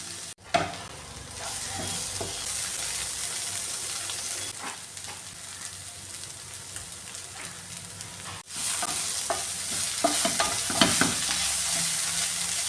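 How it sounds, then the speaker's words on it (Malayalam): Bitter gourd stir-fry (mezhukkupuratti) sizzles loudly in a pan, with scraping stirs near the start and a busier, louder burst of stirring in the second half, no talk. "ഇടയ്ക്ക് ഇതൊന്ന് ഇളക്കി കൊടുക്കാമേ"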